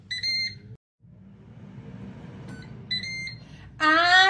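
A short series of electronic beeps from a Ninja dual air fryer cooking chickpeas, a few bursts spaced apart and ending in a longer, louder tone, with low background hum.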